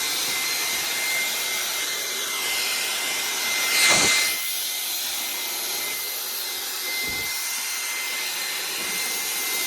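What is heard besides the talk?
Hoover vacuum cleaner cleaning a corner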